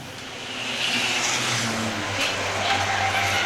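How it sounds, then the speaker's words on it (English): Race cars at a speedway engine roar steadily through a short stretch, a continuous mid-distance drone of several cars rising and holding loud with no talk. "Bolio gets a really good run now, that time down through turns 3 and 4, pulls right back to the back bumper of the 49 of Washburn"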